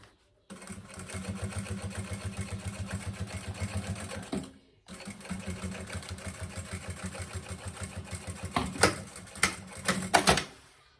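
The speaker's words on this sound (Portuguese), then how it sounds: "a primeira costura aqui pra segurar o sintético é uma, depois eu passo outra" A sewing machine stitches synthetic lining for a maternity bag in fast, even rhythmic bursts. After a brief pause it resumes, ending with a few louder mechanical clunks, close and without speech.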